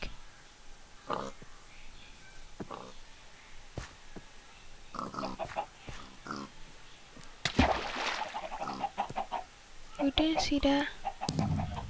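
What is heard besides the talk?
chicken clucking in a video game (Minecraft Block Hunt)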